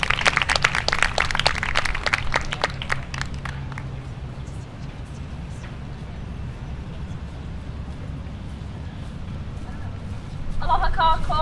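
Crowd applause at a higher education day-of-action rally, a short spell of clapping and cheering in the opening seconds that fades into quiet room noise before a voice begins speaking at the end.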